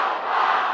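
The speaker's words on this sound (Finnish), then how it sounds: "Kun mä lasken 3, niin kaikki huutaa täysiä Kalpa." A large outdoor crowd in Kuopio market square at a KalPa hockey championship celebration roars a sustained, loud chant of the team name, a dense wall of voices held at full volume for under a second.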